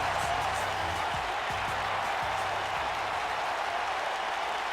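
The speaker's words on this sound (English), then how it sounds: "as the crowd rallies behind EC3" A steady wash of applause and crowd noise from the arena audience at an NXT show in Richmond in the WWE 2K19 video game, with a few low thumps under the constant roar.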